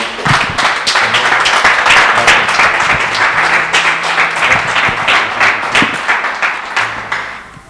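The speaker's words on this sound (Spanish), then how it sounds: "quiero que le des un aplauso muy cariñoso al pastor Manuel Leal" An audience gives a warm round of applause welcoming pastor Manuel Leal, dense, loud, steady clapping filling the whole stretch before thinning slightly at the very end.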